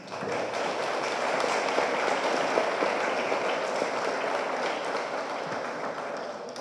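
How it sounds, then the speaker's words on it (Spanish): An audience applauds a hydrology doctor as he is introduced at a talk on water distribution and climate change, a dense, steady wash of many hands clapping for several seconds with no voices over it. "Un fuerte aplauso para el doctor Aldo Iván Ramírez"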